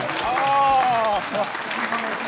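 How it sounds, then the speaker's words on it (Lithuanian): An audience on a Lithuanian comedy game show applauds, clapping densely and steadily for about two seconds, with a voice speaking over the applause. "Plojimai Antanui."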